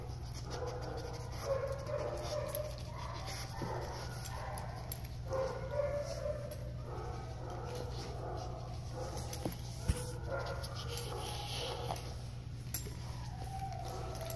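A female dog named Maggie whimpers and yips softly while pawing and mouthing at a closed fist holding a cookie, with a steady low hum underneath and no talking.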